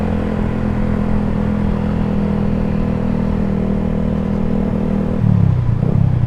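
A Suzuki GSX motorcycle with a WRX Lingga exhaust idles close by with a steady, deep bass rumble, then gives a short rev near the end.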